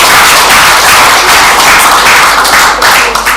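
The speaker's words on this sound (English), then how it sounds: "Give a big round of applause for her." A loud, dense burst of audience applause at a career fair, with many hands clapping continuously and close by and no one speaking.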